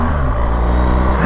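A BMW GSA motorcycle engine drones steadily close by in a short, continuous burst of acceleration, with a low rumble and no speech.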